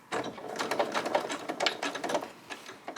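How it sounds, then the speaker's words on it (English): A sewing machine stitching fabric for a quilt block, running in fast continuous bursts of mechanical clatter that rise and fall steadily, close and fairly loud, with no voices. "then I start sewing right there."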